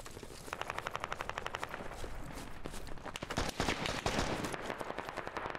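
Rapid automatic gunfire rattles in steady bursts in the video game Squad, then heavier shots and impacts pile up, loud and close, with a game-like processed sound and no voices.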